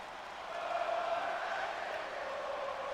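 Crowd in the WWE 2K22 wrestling video game cheers as a steady, swelling roar of many voices, continuous throughout and fairly loud, with no clear single speaker.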